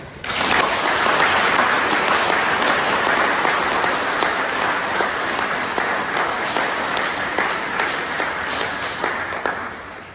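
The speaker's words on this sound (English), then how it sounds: "please, let us give a round of applause" Crowd at a fire department's 150th anniversary event gives a sustained round of applause, dense and even clapping from many hands at close range, holding steady for about ten seconds.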